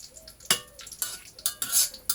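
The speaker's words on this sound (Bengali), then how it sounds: "দারুচিনি, এলাচি, গোলমরিচ, সব লবঙ্গ, সব কিছু একসাথে দিয়ে নিলাম এবং এটা ভালো করে একটা সুঘ্রাণ আসার আগ পর্যন্ত ভেজে নিব।" Whole spices, namely cinnamon, cardamom, black pepper and cloves, are stirred in a pan with a faint sizzle underneath, marked by several sharp scraping and clinking strokes of a utensil against the metal at irregular intervals.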